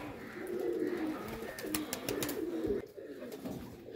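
Three female flying pigeons on a rooftop coo and rustle close by, with wingbeats and soft throaty calls over a faint background.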